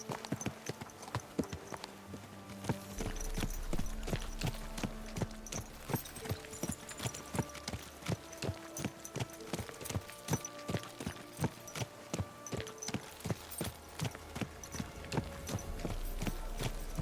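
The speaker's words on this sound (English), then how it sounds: "I feel like they lowered the volume of horses' hooves." Horse hooves clip-clopping in Kingdom Come: Deliverance 2, a steady rhythmic trot of many close, crisp hoof strikes continuing throughout over a low ambient rumble.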